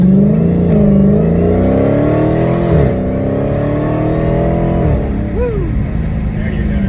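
Dodge Hellcat V8 with a free active exhaust mod, loud and close, its engine note climbing and holding through revs, dipping between shifts, then pulling up again.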